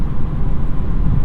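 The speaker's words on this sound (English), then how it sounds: "I'm actually kind of surprised you hear the engine as much as you do." A 2022 Volkswagen Golf R with DSG cruising on a highway, a steady low engine drone and sporty exhaust rumble heard from inside the cabin, blended with road and wind noise.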